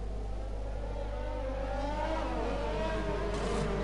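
Formula 1 cars racing in an F1 video game at Abu Dhabi, one steady droning engine note rising and falling as a car takes the final corner, loud and continuous with a low hum beneath.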